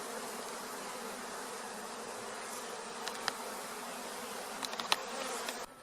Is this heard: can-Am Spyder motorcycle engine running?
no